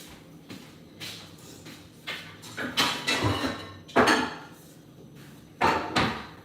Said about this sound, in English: brought out the giant pot because I feel like I'm gonna add a lot of stuff